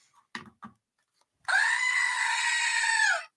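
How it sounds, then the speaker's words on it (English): A goat screams in one long, loud, harsh bleat lasting over a second, after a couple of brief faint sounds. "Goats."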